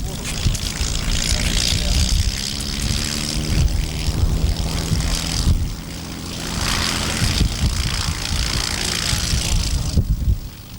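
A New Zealand agricultural aircraft touches down in a three-point landing and taxis, its propeller engine droning loudly and steadily throughout with rising and falling surges, a commentator's voice talking over it.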